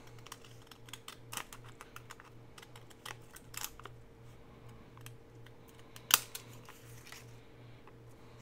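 Scissors snip through craft paper at an angle, making scattered light clicks and crisp cuts over a faint steady hum, with one sharper snap near the end.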